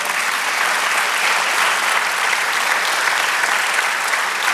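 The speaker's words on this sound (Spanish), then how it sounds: "Denle un aplauso al Señor." A church congregation applauds loudly and steadily during a Spanish-language sermon, a dense, continuous wash of many hands clapping at once with no talking over it.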